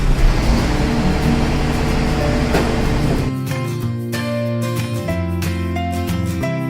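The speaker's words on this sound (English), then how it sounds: "Green garbage truck." A green toy garbage truck gives a loud, noisy rumbling drone for about three seconds before bright music takes over.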